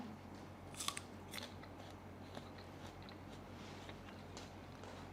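Crunchy Indian date fruit bitten and chewed, giving faint crisp crunches and clicks, a few sharper bites early on over a quiet steady hum, no talk.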